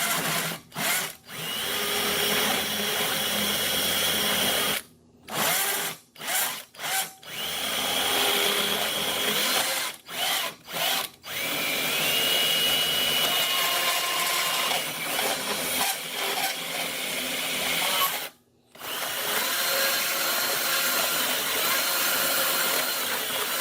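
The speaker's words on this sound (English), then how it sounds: "We can use a drill." A power drill whirs steadily, used in place of an air tool on a GM seat rail, stopping and restarting several times in short bursts, with brief silent gaps between runs.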